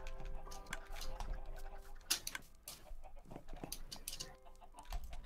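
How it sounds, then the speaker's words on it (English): Chickens clucking in Minecraft, a dense overlapping chorus of many birds packed together, with clucks and sharp ticks forming a continuous busy texture at moderate level and no talk. "Ben, the chickens are overflowing again."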